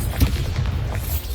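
Confringo fire-explosion spell cast in the video game Hogwarts Legacy: a loud, deep booming blast with a sharp hit near the start, followed by rumbling low-end that persists throughout.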